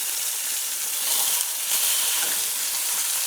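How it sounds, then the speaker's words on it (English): Chicken pan-seared in a hot pan gives a steady, loud, close sizzle and hiss that runs unbroken throughout, with no voices over it. "So now we're going to sear the sides."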